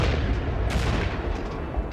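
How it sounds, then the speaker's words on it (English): Airstrike explosions over Baghdad come through a dense, continuous low rumble of booms and distant gunfire, with a heavier burst partway through. "Baghdad tonight, the 19th evening of airstrikes"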